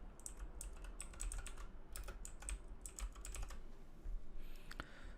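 Computer keyboard typing as a project name is entered, with clusters of quick, light key clicks in bursts over several seconds, fairly close and quiet, no voices.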